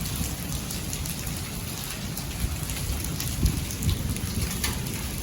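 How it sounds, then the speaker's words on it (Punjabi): Hail falling during a storm, a dense, steady patter and rattle on surfaces with a few louder knocks, continuous and fairly close, with no voices. "ਗੜੇ ਫੇਰ ਪੈਣੇ ਸ਼ੁਰੂ ਹੋ ਗਏ ਜੀ"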